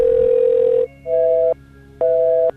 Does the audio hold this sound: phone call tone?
yes